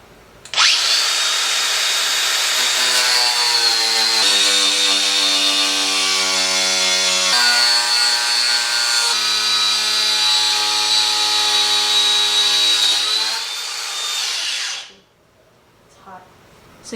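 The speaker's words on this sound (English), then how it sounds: "We're going to start cutting the bumper." A power tool cuts steadily through a stock Toyota Tacoma bumper for about fourteen seconds, loud and close, its pitch dropping partway through before it winds down and stops; no one speaks.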